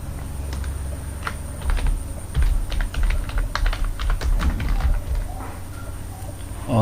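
An accounting heading is written out in a quick run of sharp clicking and tapping strokes, fairly loud and close, with irregular bursts of pen or stylus contact and no speech.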